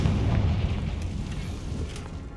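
A Confringo spell explodes in the video game Hogwarts Legacy with a deep, rumbling boom that rolls on as a sustained low roar for a couple of seconds.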